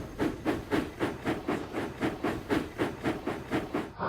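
Steam locomotive puffing steadily, a rhythmic chuff about every quarter second with hissing steam between beats, sustained and fairly close, no talk.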